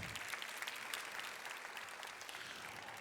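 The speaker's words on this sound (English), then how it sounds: "Round of applause for Darian." Audience applause at an awards event honoring young people, a continuous, fairly distant and faint patter of many clapping hands with no voices.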